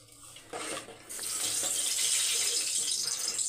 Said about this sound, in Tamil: தண்ணி மிக்ஸி ஜாரில்.